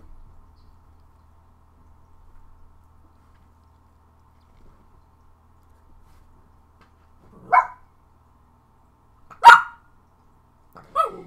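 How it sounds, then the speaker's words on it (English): A few sharp dog barks ring out after a long quiet stretch, widely spaced, with a final short yelp near the end; moderately close. "excuse my barking dogs."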